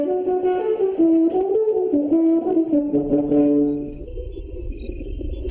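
A sustained brass-like horn melody moving through several mellow held notes, then fading into a low rumbling hum at the end.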